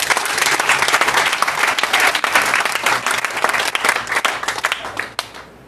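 A church congregation at a Sunday service claps for Jesus in dense, sustained applause that stays loud throughout and drops off abruptly at the end.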